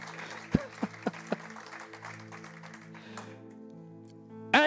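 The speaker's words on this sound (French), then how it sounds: "Acclamez fort pour mon frère." Church congregation at a Sunday worship service breaking into applause: a few sharp claps near the start, then a sustained low wash of clapping and crowd noise over organ-like tones, with a loud burst at the end.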